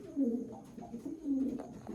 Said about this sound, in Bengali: দেখুন কত সুন্দর পায়রা